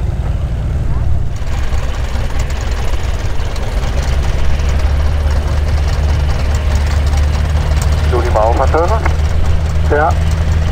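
A medical helicopter engine runs steadily at Teuge airfield, a loud, constant mechanical drone with throbbing low rumble, while brief voices cut in near the end.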